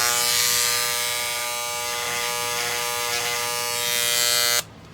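An electric engraver buzzes steadily against a turned ipe wood piece for about four and a half seconds, cutting a maker's mark, then stops abruptly; loud and close with no talking.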